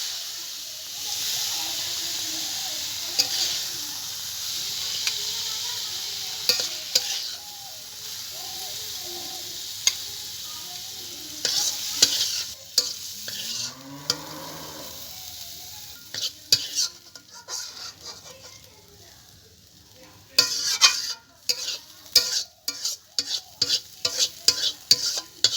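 Fourteen kinds of leafy greens frying in ghee in a pan for a Diwali Chouddas dish, with steady soft sizzling and hiss, and repeated stirring scrapes and clinks growing sharper and more frequent toward the end.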